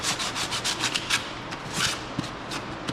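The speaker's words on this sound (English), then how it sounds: "Just kind of roughing it up so the paint sticks a little bit better." Rapid back-and-forth sanding strokes roughing up the surface of a duck decoy before painting, a close, rhythmic rasping scrub with no talking.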